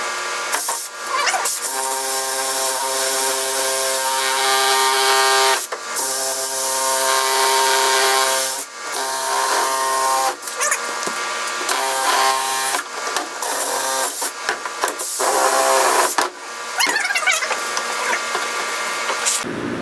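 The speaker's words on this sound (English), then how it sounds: "So I got my drill on its highest speed." A power drill at its highest speed whines while brushing a wooden 1950s storm window frame, a steady sustained grind broken by a few brief pauses and scraping bursts.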